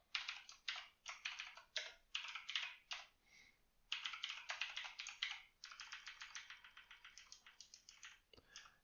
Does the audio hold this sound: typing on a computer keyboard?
yes